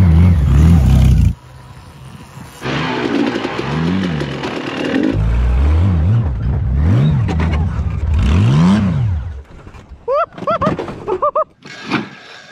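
A Honda Goldwing motorcycle ridden off road, its engine surging and revving up and down in repeated close, loud bursts, with a pause early on and a few short high chirps near the end.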